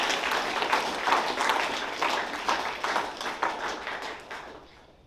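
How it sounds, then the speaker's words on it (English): A school assembly crowd claps steadily for newly named house leaders, a dense, fairly loud burst of applause that holds for a few seconds and then tapers away. "Round of applause for those house leaders."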